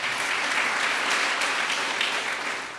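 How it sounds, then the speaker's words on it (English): Steady, dense applause from an audience at the grand opening of Weingart Tower 1, sustained for a few seconds before easing off slightly at the end. "they deserve applause anyway"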